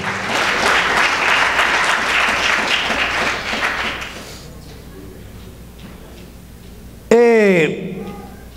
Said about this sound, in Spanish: Denle un aplauso al Señor para que se mantenga despierto.